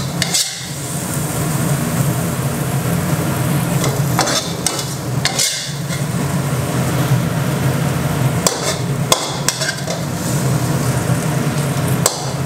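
Rice being stir-fried for Thai basil pad gaprao, a steady loud scraping and clanking of a spatula against a pan over continuous sizzling, with sharper strikes recurring every few seconds.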